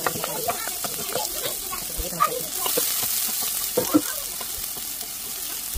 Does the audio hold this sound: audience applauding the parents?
no